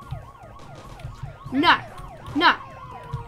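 Cartoonish police car sirens wail in the video game Tasty Planet, repeated sweeping tones over game music, while a voice briefly calls out over them.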